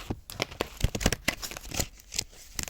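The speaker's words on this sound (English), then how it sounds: "Shuffling the cards." Tarot cards shuffled by hand give quick, close papery riffles and crinkling flicks in a dense, uneven run.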